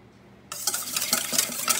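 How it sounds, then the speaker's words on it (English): Eggs being whisked in a bowl for banana bread batter: after a brief quiet start, a steady scraping, clattering whisk rhythm runs close and fairly loud, with no voices. "I'm gonna give them a little mix."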